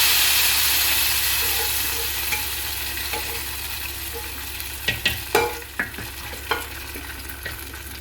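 A tadka of fried onions added to a dish sizzles steadily in the pan, a loud broad hiss that slowly eases, broken near the end by several sharp clinks and scrapes of stirring; no voices.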